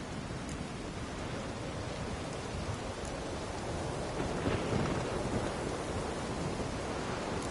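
A thunderstorm in The Witcher 3 rumbles low and heavy under a steady wash of rain, with a louder thunder swell partway through; no voices.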